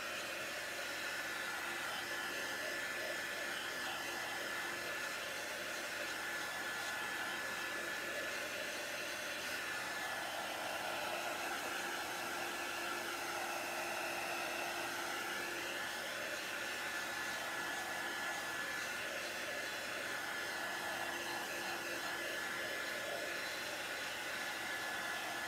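A hair dryer blows steadily on a St. Patrick's Day t-shirt transfer stuck to a table, a constant close whooshing roar with slight wavering in pitch and no talk.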